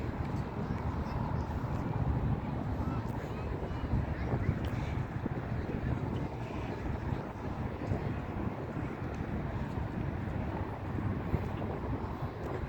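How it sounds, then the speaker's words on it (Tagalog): Strong, warm wind buffets the microphone during an outdoor walk in Mishref, in a constant, heavy roar that lasts throughout. "Lakas ng hangin, pero ang buga ay mainit"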